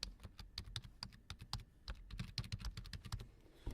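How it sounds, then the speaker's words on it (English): Fingers typing on a computer keyboard, a quick irregular run of crisp key clicks, close and fairly quiet, with no talking. "After you type, hit Enter on your keyboard"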